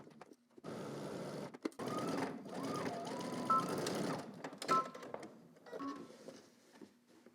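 A sewing machine runs a trouser seam through the crotch for a Simplicity S9758 pattern with a steady, fairly quiet hum broken by a few pauses, plus faint higher beeping tones and small clicks.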